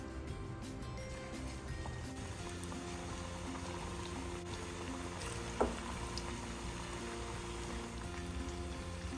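Chicken wings deep-frying in oil, a steady dense bubbling hiss that holds at an even level throughout, with a single brief clack partway through and no voices.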